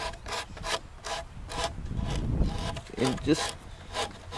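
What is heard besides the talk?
sanding crown moulding with 80 grit sandpaper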